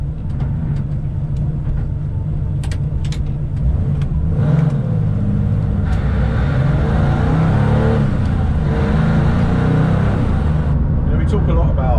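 Engine of a Porsche 993 RS Clubsport while driving, a steady loud low drone from inside the car with constant road rumble; someone talks over it throughout.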